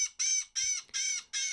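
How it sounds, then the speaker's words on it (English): A female cardinal call from a predator-calling sound pack: four loud, bright, squealing chirps evenly spaced in a sharp repeating rhythm, clean and alone with no talk. "The next sound is a pretty cool sound. It's DS Female Cardinal."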